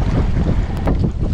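Strong wind buffets the microphone on a fishing boat out on the water, a loud, continuous low rumble with gusty surges throughout.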